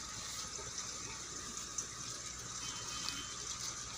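Water flowing steadily through a planting bed of stones where kangkong grows, a continuous soft, close trickle and gush with no talk over it.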